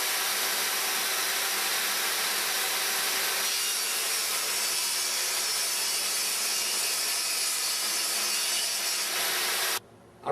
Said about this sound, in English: I readjusted my saw to make these notches here